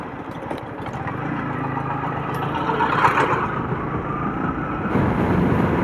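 A Yamaha MT-15 motorcycle running: a steady, close engine drone with wind noise that swells slightly midway and stays continuous throughout.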